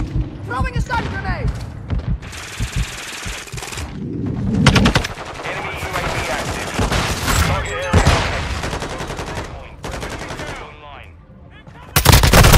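Rapid automatic gunfire, bursts and explosions fill a Modern Warfare 2 Hardpoint match on Mercado Las Almas with a TAQ 56 rifle, loud and dense throughout and ending in a sudden blast, while game voices call out over the shooting.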